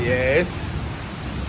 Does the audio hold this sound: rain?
yes